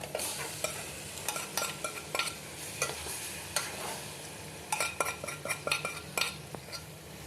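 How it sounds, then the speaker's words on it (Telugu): Chicken pieces fry in a pan for chicken curry, a low sizzle beneath brisk, rhythmic stirring with a metal spoon that scrapes and clinks against the pan in quick bursts, with no talking. "ఈ చికెన్ ఇందులో వేసుకోవాలి."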